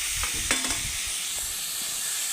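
Fried potato, papaya and soybean pieces tipped into a pan and stirred, giving a steady broad sizzle with a few brief scraping stirs near the start.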